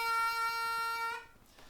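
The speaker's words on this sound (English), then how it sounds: "So the bend should sound like this" A single sustained harmonica note bent on the third hole toward the blue third, held steadily for about a second before fading, close and fairly quiet.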